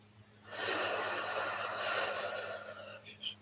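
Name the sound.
breathing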